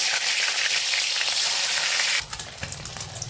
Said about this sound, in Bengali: এবারে ওই কাঁটাটাকে ভেজে নিচ্ছি।